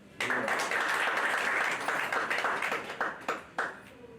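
Audience at an environmental seminar bursts into sustained applause, a dense wash of clapping that holds steady, then thins into a few scattered final claps near the end.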